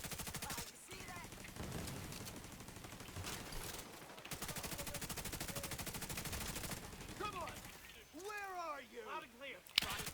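Rapid automatic turret gunfire in The Division 2, a run of sharp repeated shots with chirpy electronic effects near the end, loud and close in the game mix.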